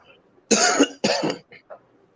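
Two sharp, close coughs from a person, followed by a couple of faint throat-clearing sounds.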